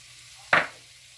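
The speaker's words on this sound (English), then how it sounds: "I'll saute this garlic cloves for about a minute" Two large cloves of fresh minced garlic hit a hot pan with a short, bright sizzle that swells sharply and fades within a moment, close and alone without talk.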